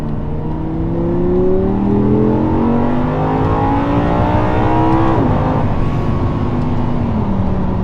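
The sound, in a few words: car accelerating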